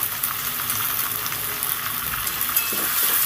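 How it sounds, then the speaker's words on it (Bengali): Thin, long potato strips with a little salt fry in a pan while preparing homemade egg chowmein, giving a steady close sizzle with faint stirring scrapes and no talk. "লবণটা দিয়ে ভালো করে নেড়ে চেড়ে দেবো একবার ঢাকা দিয়ে এটাকে ভেজে নেব"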